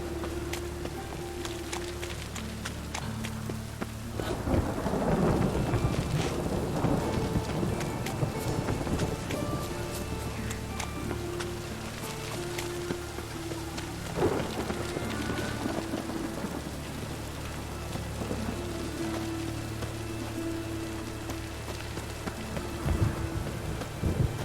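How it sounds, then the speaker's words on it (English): A thunderstorm in The Witcher 3: steady heavy rain with rolling thunder swelling around five and fifteen seconds, a constant loud wash of sound and no talking. "Storm, damn it."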